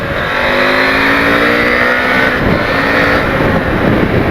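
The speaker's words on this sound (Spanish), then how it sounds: "¿Cómo suena esta moto, por favor, ahora?" A KTM 890 Adventure motorcycle fitted with an aftermarket AliExpress exhaust pipe revs loud and close, its steady engine roar climbing and wavering in pitch for several seconds with no talking.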